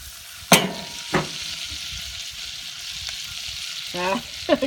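Food sautéing in a pan for grilled pesto wings, a steady soft sizzle broken by a few sharp utensil clinks and scrapes, with no talking.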